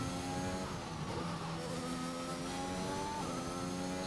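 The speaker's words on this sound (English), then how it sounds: "So car grumble." The engine of an F1 2021 race car grumbles in a video game at Britain's circuit, a steady mid-pitched drone with shifting harmonic tones as revs rise and fall, continuous and close.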